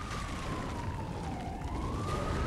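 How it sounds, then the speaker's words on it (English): An emergency vehicle siren outside sweeps slowly down and back up in pitch, steady and continuous over broad background noise, with no voices. "Fucking sirens. All the time."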